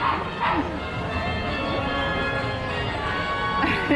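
A dog barks and yips a few times amid close-up, excited family chatter and laughter, the barks short and mixed in with the voices rather than standing alone.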